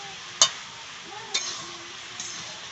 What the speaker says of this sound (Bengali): এবার ভালো করে নাড়াচাড়া করে নিচ্ছে আর কি, তাহলে আরো খেতে টেস্টি হবে।